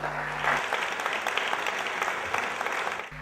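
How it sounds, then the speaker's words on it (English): Warm audience applause welcoming Rebbetzin Heller to a Tuesday Night Live stage event, steady dense clapping from a seated crowd filling about three seconds, even and sustained throughout. "Please give a warm applause to Rebbetzin Heller."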